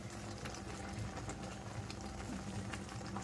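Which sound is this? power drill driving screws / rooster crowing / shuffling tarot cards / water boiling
water boiling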